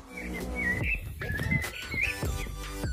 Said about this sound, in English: You hear the birds singing, absolutely gorgeous.